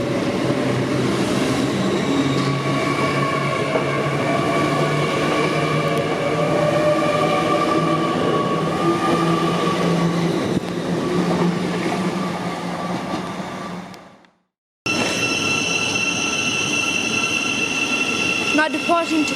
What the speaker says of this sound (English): This is 2 trains.